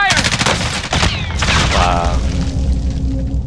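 Gunfire in the video game Call of Duty Warzone, loud booming shots and rapid bursts at close range, followed by sweeping whooshes and a lingering rumble.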